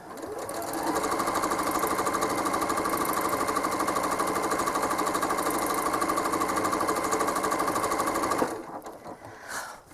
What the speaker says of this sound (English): While I stitch all the leaves